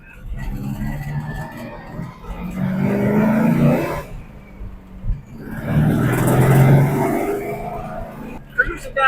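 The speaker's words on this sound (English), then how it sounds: "we're driving in a 61 Volkswagen" A 1961 Volkswagen Beetle with a scat shifter drives in third gear, its air-cooled engine droning and surging inside the cabin in two rising swells, with a person talking over the engine noise.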